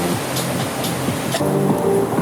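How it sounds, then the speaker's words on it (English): A waterfall on the American River gives a steady, broad rushing roar, close and constant throughout, with light rain falling nearby. "Waterfall."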